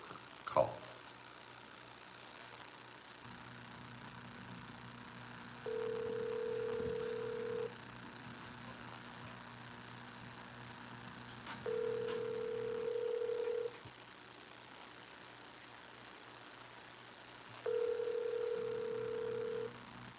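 Outgoing phone call ringback tone: three long steady beeps spaced about six seconds apart over a low background hum, with no one speaking.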